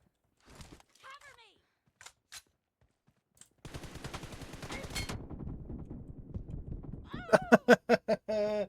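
PUBG Mobile gunfire rattles in a fast automatic burst near the middle of the clip, with single shots earlier and a few sharp reports at the end, mixed with a horse neigh and someone shouting and laughing.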